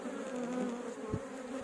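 Honeybees on a hive's brood frame give off a dense, steady buzzing hum close to the listener, with a few soft knocks and shuffles from the frame.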